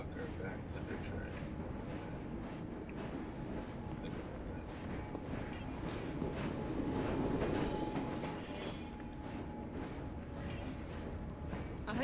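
Train rolling along in Assassin's Creed Syndicate, a constant low rumbling clatter of carriages running throughout beneath game voices and ambient noise.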